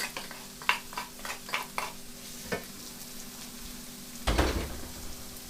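Spices sizzle in a hot pan of onions and ginger for a vegetable curry, with a soft steady frying hiss broken by a quick series of light stirring taps and a louder scrape near the end.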